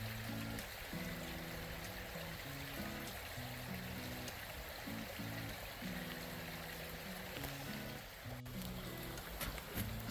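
A creek runs beside a hiking trail in British Columbia, a steady close burble and rush of water. A low tonal hum comes and goes beneath it.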